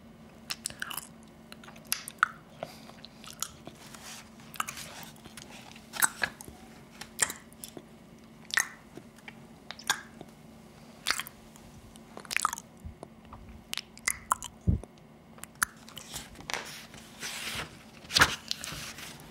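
A voice imitates a hippopotamus chewing gum: wet, smacking chewing with repeated crunchy bites and squishy mouth noises at an irregular rhythm, close and fairly quiet, with a faint steady hum beneath.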